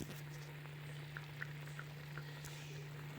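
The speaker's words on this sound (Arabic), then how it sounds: "هذا هو الدجاج ديالي، ها هو كيتقلى" Chicken sizzling as it fries in a pan, a soft steady crackle with faint bubbling pops carrying on alone throughout.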